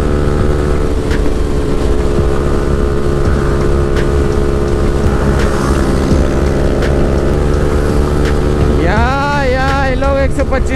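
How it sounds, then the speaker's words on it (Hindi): A Kawasaki Ninja Versys motorcycle engine runs steadily while riding, a loud continuous drone with wind rush, rising in pitch near the end as it revs. Voices talk over it. "लेकिन अच्छा साउंड कर रही है बाइक, निंजा वर्सेस अच्छा साउंड कर रही है।"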